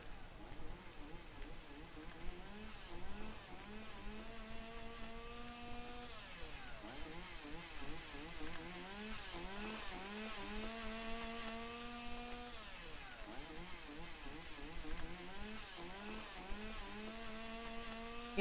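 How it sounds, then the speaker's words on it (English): Chainsaw in the video game Lake, heard cutting down trees in the woods: repeated rising and falling buzzing whines in bursts, moderately distant, against a quiet background. "Definitely hear a chainsaw."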